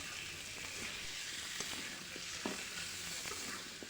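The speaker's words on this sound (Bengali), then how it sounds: "আলু দিয়ে ঝাল ঝাল করে মাংস রান্না করতেছি" Spicy chicken curry with potatoes sizzles and fries in a pan, a steady crackling hiss with occasional stirring clinks, close and moderately quiet with no voices.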